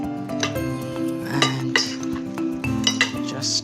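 Fresh pappardelle tossed with basil, parsley and walnut pesto in a bowl, with close clinks and scrapes of utensils against the dish in an uneven rhythm.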